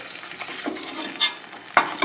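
Sausage frying in a pan at about halfway cooked, a loud continuous sizzle broken by a few sharp scrapes and clatters as it is stirred and moved around, no voices.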